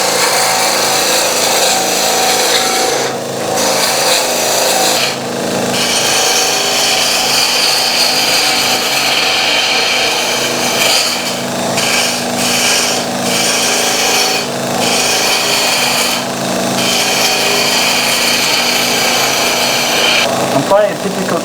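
Wood on a lathe is shaved by a gouge making a straight cut between two points. A continuous close scraping hiss runs throughout, broken by short pauses as the tool is lifted and reset.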